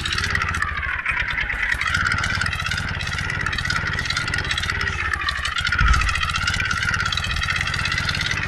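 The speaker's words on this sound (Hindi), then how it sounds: "तो भाई देख सकते हो हमारे ट्रैक्टर में ट्रॉली खींच ली है थोड़ी।" In an Indian tractor simulator game, an old tractor hauling two trolleys uphill gives a steady, loud, rattling engine drone with constant clatter and no pauses.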